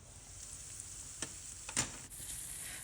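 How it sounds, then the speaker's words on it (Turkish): Steady, even sizzle of onions sautéing in olive oil in a pan, with a couple of brief clinks from stirring and no voices. "birkaç dakika soğanlar yumuşayıncaya kadar güzelce soteliyorum"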